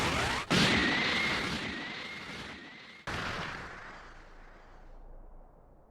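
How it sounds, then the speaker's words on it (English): A Special Beam Cannon energy blast erupts in Dragon Ball Sparkling Zero, a loud roaring explosion with a sharp crack, a second impact partway through, and a long rumbling decay that fades away. "Special beam cannon!"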